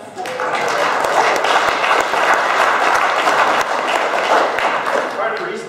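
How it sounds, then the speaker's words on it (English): A large turnout at a candidates forum applauds, loud dense clapping sustained evenly for several seconds, with scattered crowd voices underneath. "I think you should give yourselves a round of applause."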